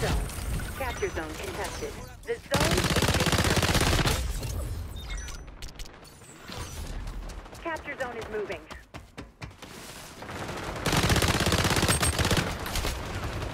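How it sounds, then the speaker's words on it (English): Bursts of automatic gunfire in the online shooter XDefiant, loud rapid volleys separated by pauses, with a voice talking in between and beneath the shots. "this gun doesn't really shoot where you, you aim at"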